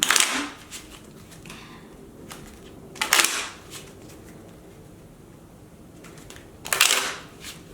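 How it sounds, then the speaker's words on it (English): Spiritual oracle cards are shuffled by hand in three short, crisp riffling bursts spaced a few seconds apart, close and fairly quiet, with faint rustling between. "I'm going to shuffle one more time and I'm going to get one last spiritual card from the inner being"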